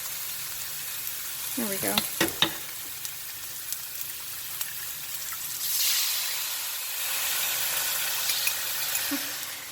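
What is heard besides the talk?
sauce added to lo mein frying in pan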